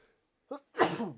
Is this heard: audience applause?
no